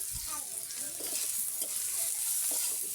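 Onion and chilli fry with nigella seeds, turmeric and salt in a pan, a soft, steady sizzle with faint scattered stirring taps, fairly quiet and close.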